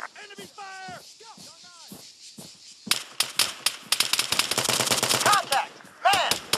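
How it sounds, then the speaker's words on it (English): Enemy gunfire in ARMA III, sharp rapid machine-gun bursts rattling loudly after a voice calls out, with more shouting between the shots. "Enemy fire!"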